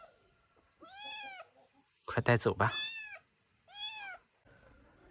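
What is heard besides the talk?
kittens meowing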